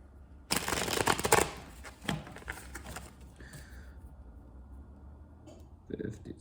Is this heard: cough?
no